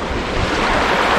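Flowing river water in cold, murky conditions rushes steadily and broadband, close and loud, with a continuous churning wash and no pauses or voices.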